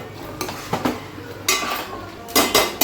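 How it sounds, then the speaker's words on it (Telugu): Chicken fry being stirred with ginger garlic paste in a pan, giving several separate scraping, clinking utensil strokes against the metal with a light sizzle underneath and no talking. "జింజర్ గార్లిక్ పేస్ట్ వేసిన తర్వాత కూడా మనం ఇలా మిక్స్ చేసుకోవాలి"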